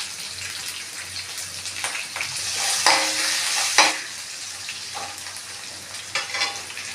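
Onions fry in ghee with green chillies, ginger, curry leaves and cumin for pesarattu upma, making a steady, close sizzle broken by a few louder stirring swishes.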